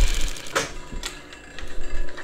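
A Merrow A-3DW-3 overlock sewing machine stitching and cutting through four layers of oilcloth, giving a short run of close mechanical clicking and ratcheting taps.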